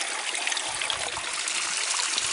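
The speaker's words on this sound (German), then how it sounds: "Da kommt das Wasser oben aus der Quelle. Das ist eiskalt, frisches, klares Wasser." Ice-cold spring water flows steadily from a Black Forest spring along the Westweg trail, a close, continuous bright splashing trickle with no voices.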